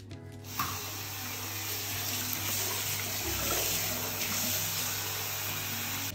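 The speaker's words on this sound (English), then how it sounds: "wash it with water" Water from a tap streams steadily over a lace hair topper extension as it is rinsed, starting abruptly after a brief pause and running as a continuous, fairly loud splashing gush.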